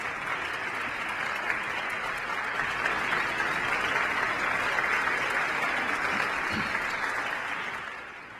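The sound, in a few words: congregation applauding Cambria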